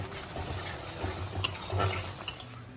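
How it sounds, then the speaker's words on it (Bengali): Tomatoes cooking down in a pan, stirred with a utensil that scrapes and taps against the metal under a low, steady sizzle, with a few sharper clinks near the end. "টমেটো দিয়ে ভালো করে কষিয়ে নিতে হবে।"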